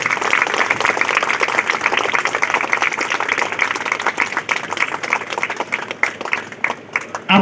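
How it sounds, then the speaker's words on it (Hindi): Audience at a school teacher's day celebration claps enthusiastically for the visiting teams, with dense, continuous clapping that thins into scattered claps toward the end. "जमकर ताली।"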